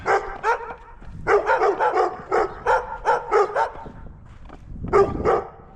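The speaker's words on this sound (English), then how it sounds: "Barking dogs." Several dogs bark rapidly in a close, loud volley on a snowy, icy street in Gainesville, Texas, then fall quiet briefly before one more bark.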